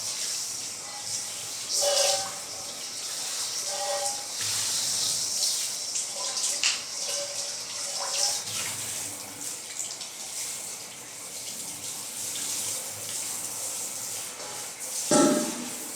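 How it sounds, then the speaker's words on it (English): Tap water runs steadily while a pan is scrubbed and rinsed in a kitchen sink, a continuous hiss with occasional clanks and rubbing scrapes, fairly close and alone. "wash this pan real quick."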